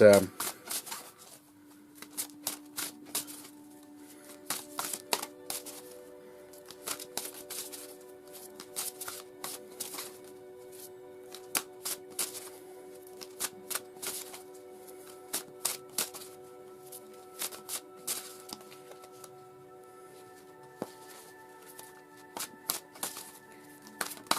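Oracle cards are shuffled by hand in repeated quick riffling bursts close by, running throughout over a faint steady background tone.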